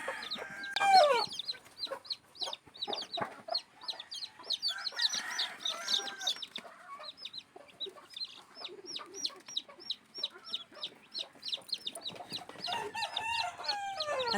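Mother hen and her chicks clucking and peeping continuously, a dense chorus of faint high chirps with low hen clucks mixed in, fairly close, no talking.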